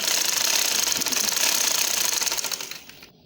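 A sewing machine stitches dori piping in a fast, steady mechanical rattle of needle strokes that runs continuously up close and stops abruptly at the end.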